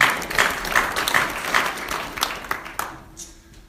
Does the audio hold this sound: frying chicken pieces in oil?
no